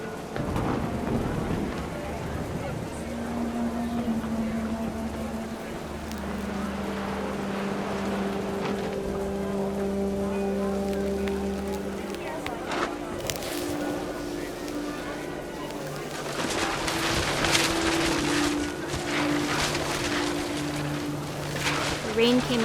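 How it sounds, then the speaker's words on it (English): Heavy rain pouring down with wind and rumbling thunder in the video game What Remains of Edith Finch, a steady wash of rain with low rumbles building to louder bursts later on. "The rain came down in buckets then"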